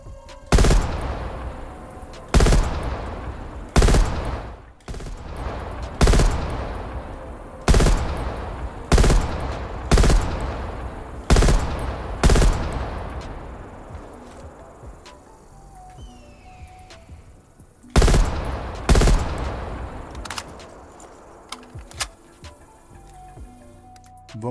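M16 rifle fire in a Call of Duty video game: loud, sharp single shots repeat at a steady pace of roughly one every second or two, followed by a pause and then a few more.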